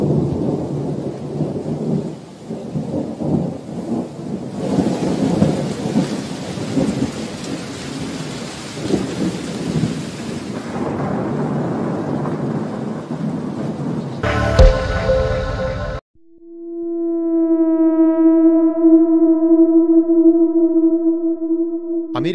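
Steady rain falls through a thunderstorm with rumbling thunder, heavy at first. It gives way to a brief loud burst and then a sustained tonal hum near the end.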